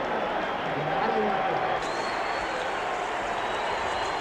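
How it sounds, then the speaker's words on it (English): A dense crowd roars continuously inside the arena at the 1971 Ali versus Frazier boxing fight, a broad, even wash of noise with a voice talking over it. "Just listen to the noise of this crowd."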